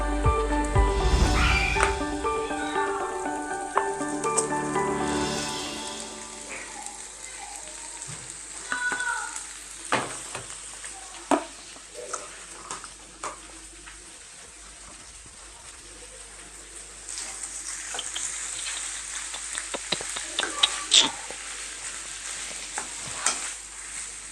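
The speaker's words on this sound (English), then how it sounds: "I'm going to throw the bully beef in the pot now." Corned beef (bully beef) sizzling in a pot for Jamaican corned beef and rice, with loud frying crackle at first, then scraping stirs and intermittent clinks and sizzles settling into a softer steady fry.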